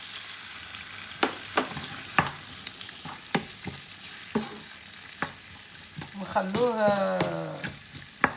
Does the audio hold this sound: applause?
no